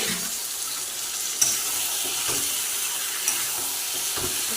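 Goat meat with garlic and ginger paste sautéing in a pan, a soft steady sizzle with a few faint stirring scrapes and clinks, quiet and close, no talking.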